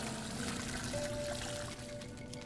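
Water pours steadily in the Grimmige Legenden puzzle adventure game, a soft continuous trickle over a quiet ambient background, with no talking.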